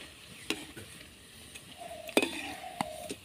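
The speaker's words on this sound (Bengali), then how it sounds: "উল্টে পাল্টে খুব ভালোভাবে ভেজে নিতে হবে যাতে স্প্রিং পটাটোগুলো এক সাইডে পুড়ে না যায়" Spring potatoes fry in hot oil with a steady background sizzle, while a utensil clinks and scrapes against the pan in a few sharp strokes as the pieces are turned.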